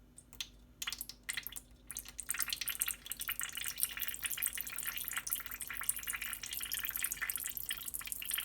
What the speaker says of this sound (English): We're gonna pour out some of the syrup